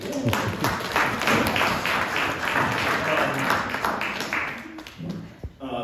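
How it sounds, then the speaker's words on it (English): A round of applause fills a memorial gathering, dense steady clapping from a room of mourners that holds strong throughout before thinning and fading out near the end. "let's have a round of applause for that"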